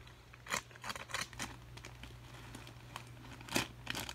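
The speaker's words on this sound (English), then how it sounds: "I thought I had sharp scissors." Scissors snipping at toy car packaging, a string of faint, sharp crisp cuts and plastic crinkles spaced irregularly over a low steady hum, quiet and close, with no voices.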